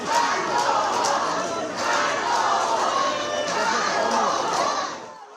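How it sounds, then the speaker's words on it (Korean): Political supporters cheering at a market rally in Busan's Gupo Market, a loud, continuous mass of shouting and crowd noise with overlapping voices, keeping up steadily before cutting off abruptly at the end. "지지자들은 환호했습니다."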